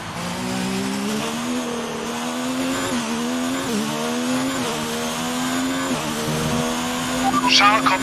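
A Formula 1 car drives into the pit lane at the Brazilian Grand Prix, its engine whining steadily at a held pitch, with a commentator talking over it.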